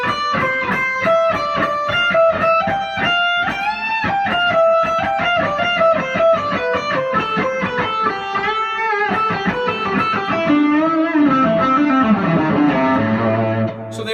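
Guitar picks a steady run of three-note groups, each going lowest, highest, then middle, climbing from one fretboard position to another with no voice over it; the notes are clear, close and lightly driven.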